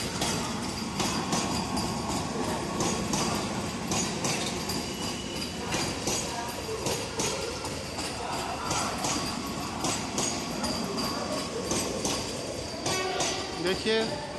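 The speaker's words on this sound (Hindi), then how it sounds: "देखिए वंदे भारत आ गई है। आगे उस साइड जा रही है" A Vande Bharat Express train arrives at platform 1 of Patna Sahib station. Continuous rolling clatter and wheel clicks run throughout, with station noise and people talking.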